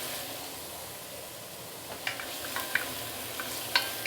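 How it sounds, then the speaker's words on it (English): Galangal and garlic sauté gently in a pan for soy sauce chicken, a quiet even sizzle with occasional small spatters and light clicks of a utensil toward the end, no talking. "So saute this for a while before we continue."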